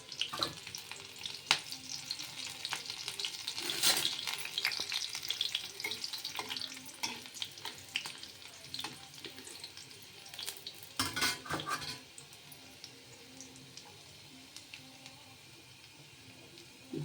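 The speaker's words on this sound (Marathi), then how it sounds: "लसूण चांगला परतवून द्यायचा तेलामध्ये." Garlic sizzles in hot oil in a pan while a metal spoon scrapes and stirs it, with sharp clinks over a steady fry that quiets toward the end.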